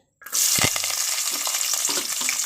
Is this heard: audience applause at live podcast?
no